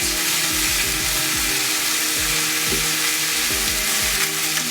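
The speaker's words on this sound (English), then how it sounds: "So at this point, the chicken is basically cooked. What you're now just doing is browning for that beautiful look and service." Chicken breast browns in a hot pan with a loud, dense sizzle that never lets up, along with low rhythmic knocks and scrapes from the pan being moved. No voices are heard.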